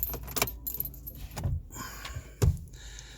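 Keys jangle and click close by as a car key goes into the ignition of a VW Golf 2.0 TDI. Several short metallic clinks come in bursts, with the strongest near the end.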